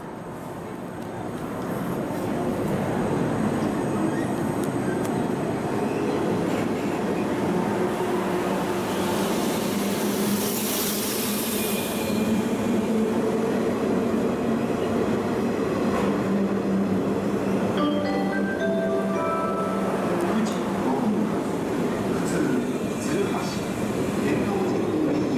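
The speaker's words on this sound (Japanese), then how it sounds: "本番乗り場から回送列車が発車します。" A sky-blue JR 103 series train runs out of service and pulls away from a platform at Kyobashi station on the Osaka Loop Line. A loud, steady rolling rumble and rail noise sustains throughout, with a brief brighter screech near the end.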